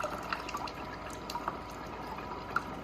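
Water drips from an Osmio Zero 3.0 water filter system during sanitisation, small scattered plinks landing irregularly over a faint steady trickle, close and quiet.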